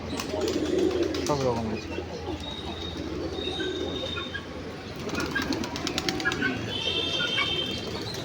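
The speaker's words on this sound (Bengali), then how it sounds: "এখানে আমাদের সব পুরো লক্কা, মায়ের পঙ্খী যাকে বলে, হোয়াইট, ব্রাউন, ব্ল্যাক, রেড" Fantail pigeons in white, brown, black and red coo among other birds in a busy, noisy loft, with someone speaking over the steady background and faint chirps.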